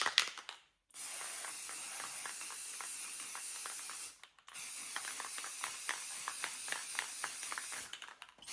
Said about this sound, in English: these are all sprayed both sides with that semi-gloss clear coat